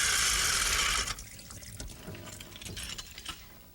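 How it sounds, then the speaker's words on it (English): A paint brush is rinsed and then spun in a brush and roller spinner: a loud, bright whirring rush of water for about a second, then quieter dripping and splashing. "take this brush and roller spinner, pop it on, another little rinse, and spin"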